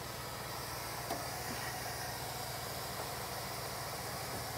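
A 2007 Roadtrek 210 RV van with its larger 300-horsepower engine sits idling, a low, even rumble with a faint hiss, steady and fairly quiet throughout.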